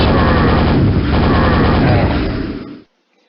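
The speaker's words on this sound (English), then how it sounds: "So they're not too tough when you have the super nail gun." Quake's super nail gun fires a rapid, dense mechanical stream for nearly three seconds, loud and close, then cuts off abruptly.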